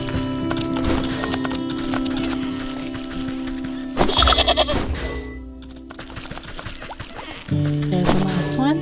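A goat bleats several times from inside a building in a video game, its calls mixed with hoof clip-clops and game sounds under a steady musical drone.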